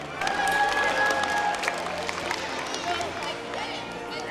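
An audience at a kids' game show claps to see players off, a mix of clapping and crowd bustle with a voice talking over it and a faint whistle-like tone early on.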